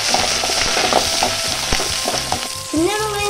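Shallots and curry leaves frying in hot oil after mustard seeds have popped, a dense steady sizzle with crackling pops and scraping stirs, ending in a louder burst as more goes in.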